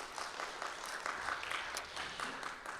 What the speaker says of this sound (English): join me in thanking them with a round of applause